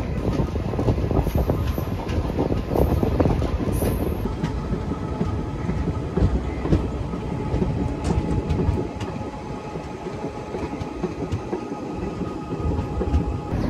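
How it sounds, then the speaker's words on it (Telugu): A Puri-Tirupati Express train rolls away from Ramavarapadu station with a steady, loud rumble. Wheels clatter over rail joints in an uneven clickety-clack throughout, and a brief high hiss is heard near the start. "కరెక్ట్గా 12:43 రామవరపాడు స్టేషన్ నుండి అయితే మన ట్రైన్ అయితే స్టార్ట్ అయిపోయింది అనమాట"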